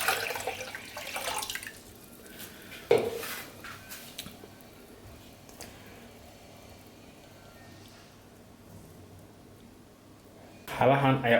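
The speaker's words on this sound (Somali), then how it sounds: "Intay qudaarta sii karayso biyaha kaasoo ku shubanaynaa." Water pours into a pot of simmering vegetables in a short splashing burst, followed by quieter kitchen sounds and another strong rush of pouring at the end.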